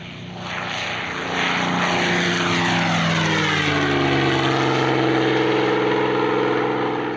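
A pair of Mustang warbirds, a 100 Squadron RAAF CA-18 Mustang Mark 23 and a P-51D, at an airshow give a loud, sustained propeller-engine roar that swells early and holds steady, with shifting pitch as they pass.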